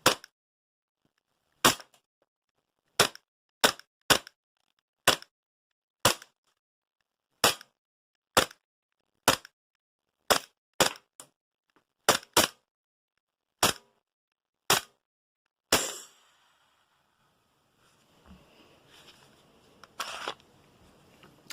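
VFC Walther PPQ gas blowback airsoft pistol firing a string of about twenty sharp, snappy shots at an irregular pace, close and crisp against silence, ending in a brief hiss of gas and faint handling noises.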